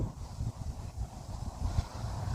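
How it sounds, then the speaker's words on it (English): Gusting windstorm of around 40 mph buffeting the microphone outdoors among swaying trees, a steady low rumble with irregular surges and no talking. "The wind's picking up out here."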